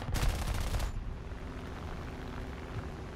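A P-36A fighter's machine gun in War Thunder fires a dense, rapid burst for just under a second, loud and close, then fades into steady engine drone.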